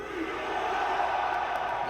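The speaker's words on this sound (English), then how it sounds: "this crowd just welcomed you with a cheer and a hug" A stadium crowd of football fans at an NFL draft event roars and cheers in a sustained, dense wash of voices.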